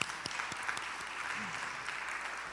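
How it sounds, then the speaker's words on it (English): An audience at a school honor society celebration program gives a round of applause, a steady moderate wash of many hands clapping, with a few voices and cheers mixed in. "give her a round of applause again."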